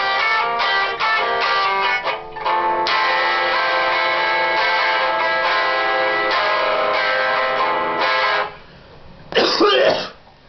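Chords strummed together on a guitar, a steady band-limited run of repeated strums with a short pause and a brief scrape near the end.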